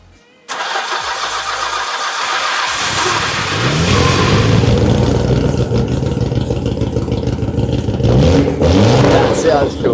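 A Nissan R33 Skyline GTR engine cranks and fires after a brief quiet start, then settles into a loud, steady rumble with rising revs toward the end, close to the listener.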